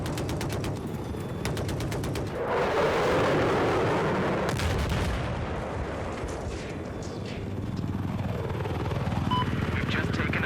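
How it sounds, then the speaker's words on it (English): Enemy attack helicopter in Battlefield 4 on the Dawnbreaker map, a loud continuous rotor roar mixed with heavy gunfire and explosions, while voices call out over the battle. "I got eyes on an enemy chopper."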